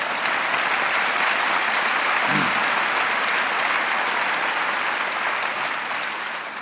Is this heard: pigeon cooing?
no